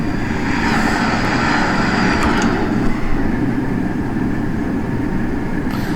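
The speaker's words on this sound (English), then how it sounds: "Looks like a Keystone train." Steady rumble and roar of an Amtrak Keystone train passing close by in Train Sim World 4, heard from an Acela cab, a continuous loud low-frequency rush with no talking.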